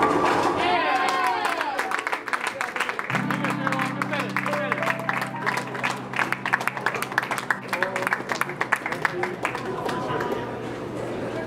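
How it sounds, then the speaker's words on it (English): Audience applause and cheering for a youth bowler, a sustained wash of many hands clapping with crowd murmur and a voice talking over it throughout. "so let's give her another round of applause"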